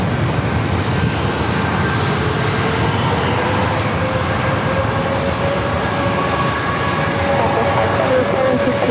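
A Southwest jet airliner on runway 27 at San Diego airport gives a steady, loud broadband engine roar that holds unchanged throughout, heard from a distance outdoors, with faint thin tones running over the rumble.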